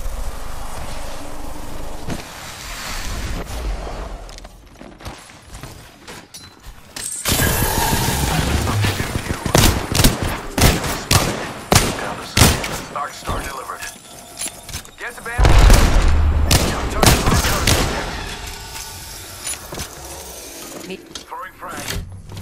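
Rapid bursts of gunfire and heavy thuds from a first-person shooter game, loud and repeated in clusters, with a player talking over the shooting.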